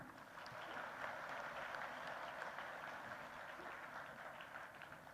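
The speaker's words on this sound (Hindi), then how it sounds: "जोरदार तालियां।" A ceremony crowd claps steadily for a chief minister being welcomed, an even, continuous wash of many hands heard from some distance and fairly quiet.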